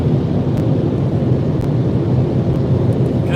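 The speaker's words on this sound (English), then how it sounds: "I got the dryer blowing on the car now." Car wash dryer blowing air onto a car, a loud, steady roaring rush of air that stays constant throughout, heard up close from inside the car with no talking.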